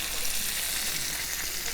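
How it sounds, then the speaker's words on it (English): Steak frying with butter in a pan, a loud, dense, continuous sizzle heard up close. "Hear that sizzle?"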